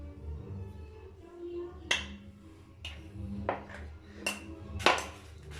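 Sugar going into a bowl for soft, spongy scones, heard as several light clinks and taps of a spoon against the bowl, spaced irregularly and fairly close over a quiet room background.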